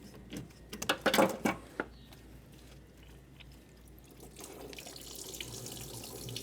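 Coolant drains from the radiator drain plug of a 2008 Mercedes GL320 into a container under the vehicle, a steady trickling water sound with a few louder splashes early on, alone without talk.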